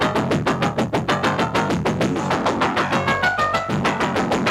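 A synthesizer loop pulses in a fast, steady rhythm of clicky, buzzy notes, with shifting tones repeating throughout.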